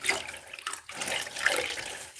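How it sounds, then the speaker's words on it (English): A grout sponge dunked and swished in a bucket of clean water during shower grouting, close sloshing and splashing with a trickle of dripping water, no voices. "And then I'll dunk it in my clean water"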